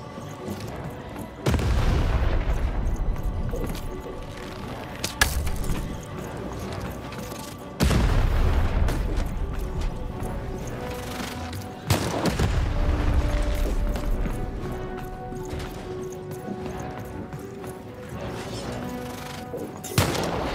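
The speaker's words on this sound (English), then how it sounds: "Shoot the button to fire the cannon" Cannon fire in Lost in Random, a few deep booming blasts several seconds apart, each trailing off into a long rumbling decay over faint background music.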